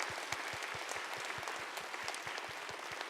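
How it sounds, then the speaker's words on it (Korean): A church congregation claps together in steady, even rhythm, the sustained applause filling the room at a constant level with no voices rising above it. "하나님께 영광의 박수 돌리겠습니다."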